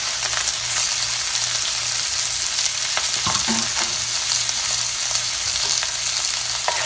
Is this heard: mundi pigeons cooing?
no